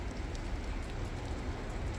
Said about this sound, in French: Oh bah il pleut